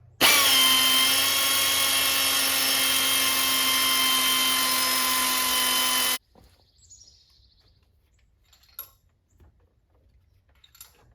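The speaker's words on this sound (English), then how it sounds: "broke out the old pneumatic ratchet here" A pneumatic ratchet whines loudly and steadily for about six seconds as it loosens cylinder head bolts on a 392 Hemi engine. It then cuts off, leaving near silence with a few faint metallic taps.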